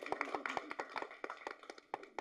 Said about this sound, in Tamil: இது கைதட்டெல்லாம் இப்போ கேட்டு வாங்க வேண்டியதாக இருக்குது